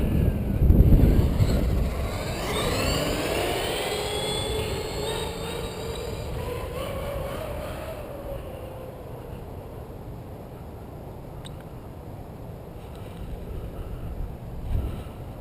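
A Traxxas E-Maxx monster truck with a 1500Kv motor on 6S power whines past at high speed, its rising and falling motor pitch sweeping by nearby, with wind buffeting the microphone and the sound fading off into the distance.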